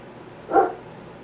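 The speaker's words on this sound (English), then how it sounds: "Do you hear my dog? I don't know what he's barking at." A single short dog bark at a water dish, muffled and somewhat distant, against a quiet background.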